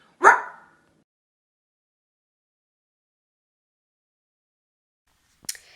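A person imitates a dog with one sharp bark, then a long silence, and a second short bark right at the end.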